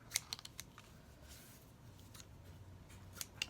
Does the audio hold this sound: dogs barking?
no